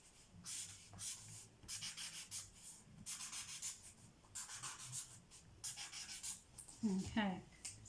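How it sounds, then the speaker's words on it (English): A pen scratches across a sketchbook page in quick, rhythmic strokes, soft and close, with short gaps between bursts of writing and a brief squeaky scribble near the end. "let's write on it"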